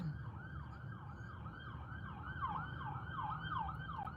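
An ambulance siren wails past in a steady rising-and-falling cycle, moderately distant and growing slightly louder, over a constant background of road traffic.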